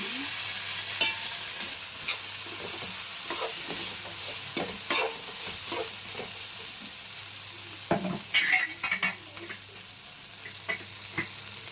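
Ginger garlic paste sizzles in a pan for coconut milk pulao while a spoon stirs it, steady frying hiss broken by repeated scraping strokes and a cluster of louder clatters near the end.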